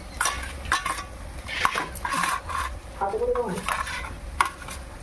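Garlic added to a frying pan with fried onions and stirred, bursts of metal spoon clinks and scraping against the pan over a soft sizzle, close and irregular.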